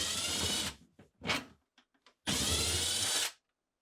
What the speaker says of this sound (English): remove the 2 screws holding the middle track in place using a 1/4 inch nut driver